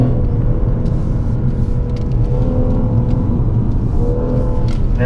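Lexus car on a race track during a performance driving school, its engine rumbling loudly and steadily from inside the cabin as it accelerates, with a continuous low drone and road noise throughout.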